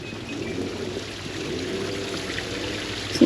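Water flows steadily through a small artificial creek feature beside a resort swimming pool, a soft continuous rushing and trickling with a faint splash near the end.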